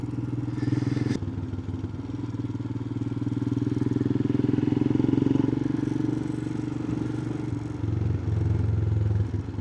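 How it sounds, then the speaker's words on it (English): An old small tractor engine chugs steadily nearby on the Isle of Barra, a low, continuous rumble with a sharp clatter at the start and slight swells in loudness. "Hey, that wee tractor's in good nick."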